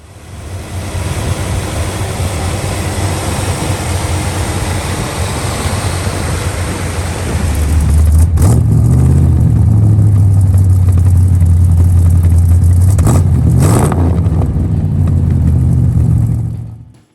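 A 1957 Dodge Royal Lancer's 325 cubic inch Hemi V8 rumbles deeply and steadily, then swells into a heavier, louder revving drone with a couple of sharp pitch shifts before cutting off at the end.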